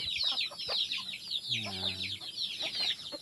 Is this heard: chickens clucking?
yes